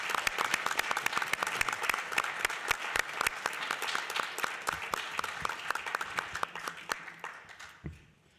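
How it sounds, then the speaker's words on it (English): Sustained applause from a city council meeting audience honoring police officers, dense clapping filling the room for several seconds before fading out. "Can we get one more round of applause for these officers?"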